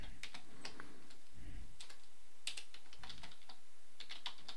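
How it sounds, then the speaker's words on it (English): Code being typed on a computer keyboard gives quick, close clicking keystrokes in short irregular bursts with brief pauses over a quiet room. "So we'll type else if switch 2 equals 1."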